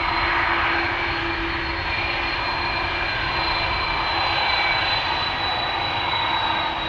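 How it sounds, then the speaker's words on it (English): KLM Airbus A330-300 jet engines roar steadily at Amsterdam Schiphol Airport, a loud, sustained airliner drone with a high whine, continuous for the whole stretch. "KLM flight 651, it's an Airbus A330-300"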